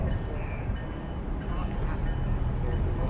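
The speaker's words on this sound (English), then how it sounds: "Train approaching." Rail noise at the newly opened Pawtucket/Central Falls commuter station on opening day, a steady broadband rumble as a train approaches the platform, with a faint voice underneath.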